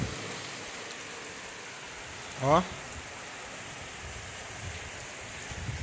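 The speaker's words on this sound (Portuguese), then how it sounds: "Não sei se você tá dando pra escutar direito por causa da chuva." Rain falls outside near a rural cassava flour house, a steady even hiss of drops throughout, briefly interrupted by a short vocal exclamation in the middle.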